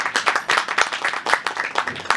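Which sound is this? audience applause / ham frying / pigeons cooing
audience applause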